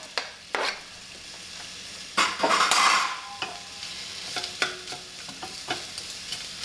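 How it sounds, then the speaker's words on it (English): Onions sizzle in a frying pan for Vietnamese bánh xèo under intermittent stirring and scraping, with a few louder clanks of utensil against pan. "I'm going to put my onions in. It's already started to sizzle."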